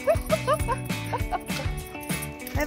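Excited dogs greet service members returning from deployment at a military homecoming, letting out rapid high yips, barks and whimpering whines close by over a steady hum of background noise.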